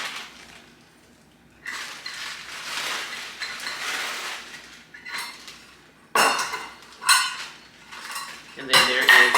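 Light brown sugar scooped with a measuring cup for a homemade sugar scrub, a series of close scraping, gritty scoops and clinks of the cup against a container, with short pauses between strokes.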